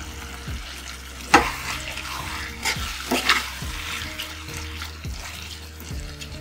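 Elephant apple pickle being stirred in a pan over low heat with vinegar added, giving a scraping, clattering stir with a sharp clack near the start and a soft steady sizzle underneath, no talking.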